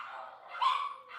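Dogs barking indoors, faint and distant, a brief muffled burst of barks heard from another room.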